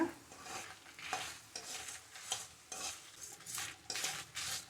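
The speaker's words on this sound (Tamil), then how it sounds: "இது கருகிராமல் வறுத்து எடுத்துக்கோங்க" Around seven dry red chillies are roasted and stirred in a pan, making rhythmic dry scraping and rattling bursts roughly every half second over a faint sizzle, close and fairly quiet, with no voices.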